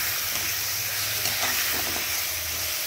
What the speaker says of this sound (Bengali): এর মধ্যে দিয়ে দিচ্ছি মাছগুলোকে দিয়ে একটু নাড়াচাড়া করে এর সঙ্গে একটু কষিয়ে নেব